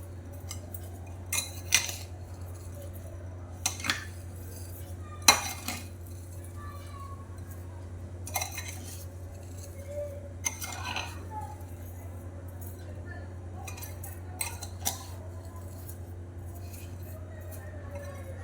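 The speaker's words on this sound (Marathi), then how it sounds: "आता ही टाकून ढवळूया आपण आता छान एकत्र करून घेऊया" A spoon clinks and scrapes against a bowl while half a kilo of amla gooseberries are stirred with sugar, giving scattered sharp metallic taps over a low steady hum.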